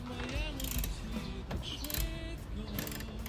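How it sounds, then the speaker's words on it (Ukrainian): Ratchet clicking and mechanical rattling while parts are unscrewed from a crash-damaged Porsche Cayenne under repair, steady close-up metallic ticking with scattered clunks throughout. "не знаю, що я відкручую, але щось відкручую"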